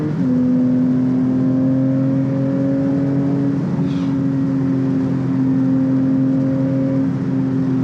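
Porsche 911 GT3 Touring with manual gearbox holding high revs near the limiter, a loud sustained engine howl heard from inside the car, steady with a slight drop midway before climbing again, no talk.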